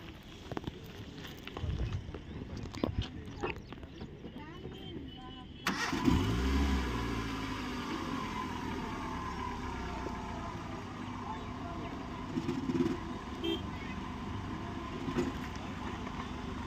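A car engine starts at a driving school in Guntur, cranking then settling into a steady idle, heard at moderate distance with people talking over it.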